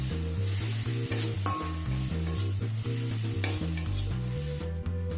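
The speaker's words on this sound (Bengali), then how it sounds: "মশলা এবার ভালোভাবে কষিয়ে নিতে হবে।" Spice powders of cumin, coriander, red chili and turmeric sizzle steadily in a hot pan while being stirred, a continuous close frying hiss with no talking.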